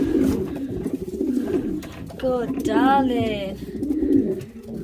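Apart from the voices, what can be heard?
racing pigeons cooing on return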